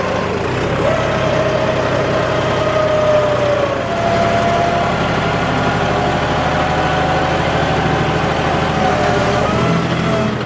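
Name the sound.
John Deere 5210 4WD tractor engine idling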